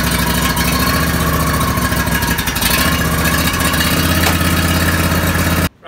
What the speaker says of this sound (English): I'm just going to do a cold start now